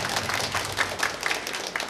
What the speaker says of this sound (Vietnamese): Cha Phêrô Lê Anh Cường, chúng con xin nộp một tràng pháo tay để hiện diện cha.